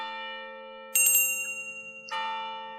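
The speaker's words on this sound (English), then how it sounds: "the sound of the distant bell faded out as I thought" A distant bell in an audio drama rings over a steady sustained tone, two clear strikes about a second apart, each with a bright ringing decay.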